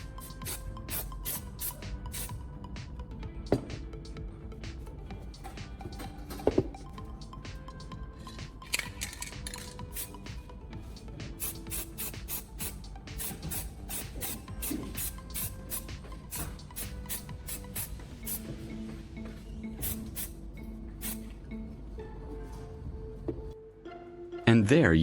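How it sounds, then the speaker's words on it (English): White spray paint sprayed in light coats onto a plastic fender, a steady close hiss running nearly unbroken throughout, with a few small knocks and a louder clatter at the very end. "I'm using white spray paint to match the original color of the plastic."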